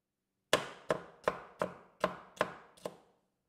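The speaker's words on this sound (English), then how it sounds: "start cutting the okra" A knife chops okra on a cutting board in seven crisp, evenly spaced strokes, each a sharp close knock that fades quickly, with silence before and after.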